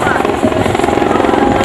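A rescue helicopter's rotor and engine make a loud, continuous droning roar overhead during a disaster rescue simulation in Subang, with voices mixed in beneath the noise.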